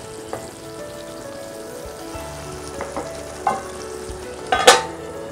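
Sambar gravy with potato stirred in a pot, a low simmering bubble with a few scattered spoon knocks and a sharper scrape near the end, close and quiet, no speech.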